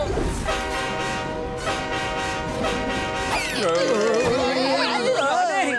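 A cartoon train horn blares loudly and steadily up close, then gives way to rumbling and wavering, warbling tones as the train goes by.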